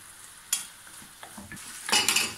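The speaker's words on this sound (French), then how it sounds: "Et on laisse cuire tranquillement." Chicken and diced tomato cook in a pan for tacos, giving a soft sizzle with a few utensil stirs and a louder burst of frying near the end, fairly close and with no talking.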